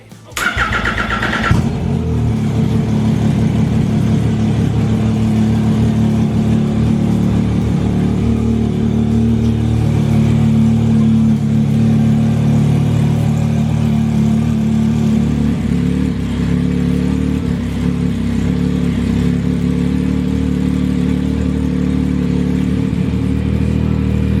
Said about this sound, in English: So we know the car starts up and runs with no problems.